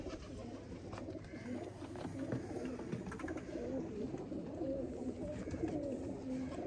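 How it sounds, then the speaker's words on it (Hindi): Sialkoti pigeons coo softly in low, repeated murmurs against a quiet background hum, close by with no talking. "यह एक लाड़ा और एक चैंपियन दोस्तों सियालकोटी कबूतर"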